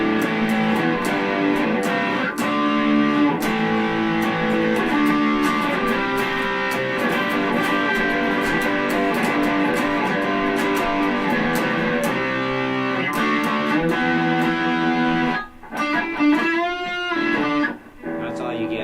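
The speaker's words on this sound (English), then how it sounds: "Let's throw some distortion on this thing." A distorted electric guitar, a Vince Neil signature model, plays sustained, buzzy chords and notes, continuous and fairly loud, breaking off briefly near the end before a few more strums.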